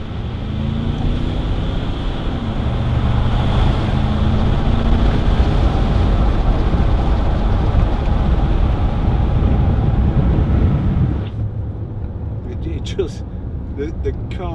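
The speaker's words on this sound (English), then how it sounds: "give it a bit of gas going up here. And even for a diesel, they sound really good." A 2010 Range Rover Sport 3.6 TD V8 diesel pulls uphill under throttle, heard from inside as a loud, steady low rumble with some wind noise that drops off sharply near the end, leaving quieter cabin sound.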